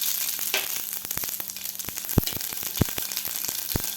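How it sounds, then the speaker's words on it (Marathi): Cumin and mustard seeds sizzle in hot oil in a pan, a steady hiss of frying punctuated by sharp crackles and pops at irregular moments, close up with no talking. "तेल आपलं गरम झालेलं आहे, त्यामध्ये घालायचे आपल्याला जिरे आणि मोहरी"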